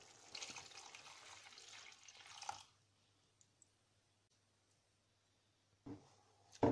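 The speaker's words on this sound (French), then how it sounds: "Je verse donc de l'eau." Water is poured into a pan of simmering vathal kuzhambu, an Indian sauce of dried vegetables, with a splashing pour for about two and a half seconds, then near quiet and a short clatter at the end.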